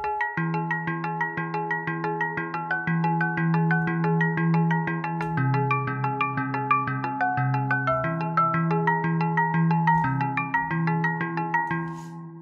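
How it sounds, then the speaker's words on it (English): Physically modelled hand drum loops from a Zebra synth, meant to resemble small tribal hand drums, tap out a steady rhythmic pattern of pitched, resonant hits that continue without pause. "they are designed to sound like sort of small tribal ethnic hand drums"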